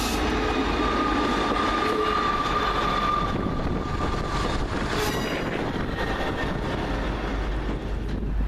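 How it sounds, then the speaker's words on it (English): Northern Rail diesel multiple unit standing at Carlisle Citadel station on a Leeds service, a steady loud engine rumble with hiss and a faint squeal, continuous throughout with no voices. "Now in with 1454 Northern Rail service to Leeds via Citadel and Carlisle."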